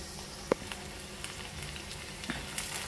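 Groundnuts, almonds, sunflower and pumpkin seeds, cashews and garlic fry in a pan for a dry-fruit chutney, a steady close sizzle and crackle with a few sharp pops and clicks throughout.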